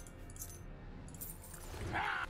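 Keys jangle in the video game Oblivion, a bright metallic rattle rising near the end of a short stretch of low background game ambience, heard alone without talk.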